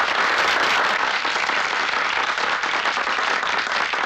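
A crowd applauds at a gathering in a Hindi film scene, a loud, steady wash of many hands clapping without a break.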